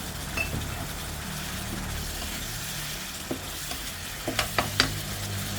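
Minced pork and basil leaves stir-frying in a pan, a steady soft sizzle with scraping stirs and a few sharp utensil clinks near the end.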